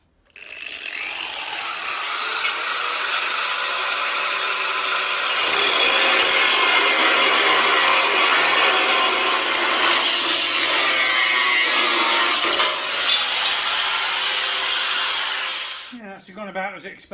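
Power cutting through a steel section of a 1973 Foden S80 lorry chassis, a loud continuous abrasive grinding that runs steadily for about fifteen seconds, close up, then stops abruptly.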